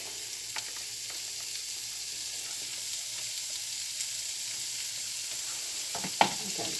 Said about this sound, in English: we're going to put our carrots in and also our garlic